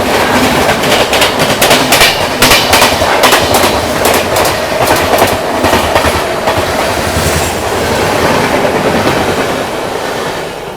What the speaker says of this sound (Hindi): अब फाइनली आई है बेंगलोर राजधानी पैरेलल